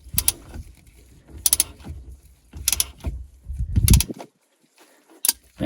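A wrench ratchets back and forth on a bolt of a 2003 Sea-Doo GTX 951 DI engine, with repeated clicking pawl bursts and metallic clanks in an uneven rhythm, separated by short pauses.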